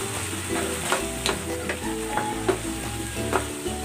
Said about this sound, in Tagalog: Lagay na natin itong dahon ng sibuyas.